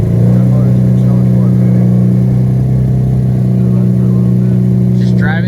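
A car engine idles steadily after a breakdown repair, left running to warm up on a cold, rainy day; a constant low drone fills the whole stretch with slight revving variation, loud and close.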